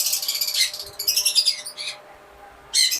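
Pet Fischer's lovebirds at a bird sale squawk and chirp in shrill, rapid bursts, loud and close, pausing briefly before another sharp squawk at the end.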